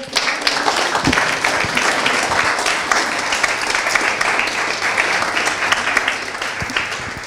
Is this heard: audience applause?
yes